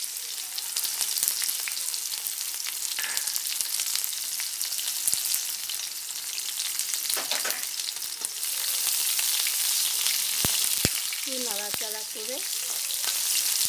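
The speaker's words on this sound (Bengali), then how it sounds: "এর মধ্যে টমেটো কুচিটা দেবো, লঙ্কা কুচিটা দেবো," Chopped tomato and chopped green chili drop into hot oil in a frying pan. A loud, dense sizzle carries on throughout, with a few clicks and stirring knocks, and a voice briefly speaks near the end.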